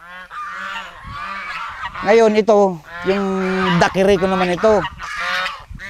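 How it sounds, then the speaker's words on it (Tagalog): Geese at a duck and goose pen honk loudly in repeated harsh bursts, close and overlapping, with someone talking between and under the calls. "itikan at saka gansa"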